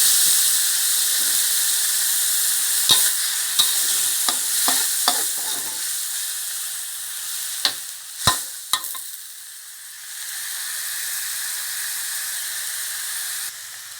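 Pork red curry with chaphlu leaves bubbling and sizzling in a pot, a steady hiss with scattered clinks of stirring and a few louder knocks, heard alone with no talk.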